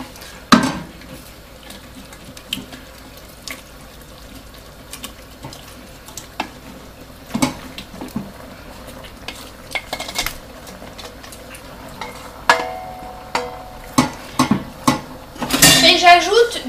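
A utensil stirring penne pasta with wilted spinach in a pan: scattered clinks and scrapes that grow busier and louder toward the end, over a quiet kitchen background.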